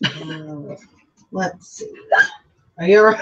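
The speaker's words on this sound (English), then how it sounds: "That was a hiccup." A single sharp hiccup lands between short bursts of close conversational speech, with quiet gaps around it.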